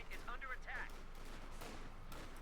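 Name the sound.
Sturmpanzer firing at riflemen in video game Company of Heroes 2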